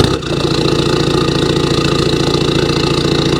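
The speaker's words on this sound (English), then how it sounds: "we'll give her a little start up and just let you hear what that's like" A Rover Streetwise TD diesel engine starts with a brief crank, then settles straight into a loud, steady, throaty idle with an even rhythmic chug close by.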